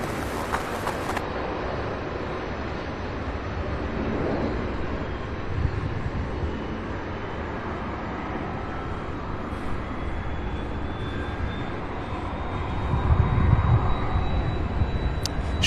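Jet airliners taxiing and taking off at SDF airport, a distant broadband engine roar that holds steady and swells toward the end as a plane powers up, heard outdoors with no talk.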